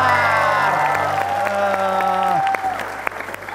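Studio audience applause on the Indonesian TV comedy game show Opera Van Java, a steady clapping wash under a descending musical jingle that fades near the end.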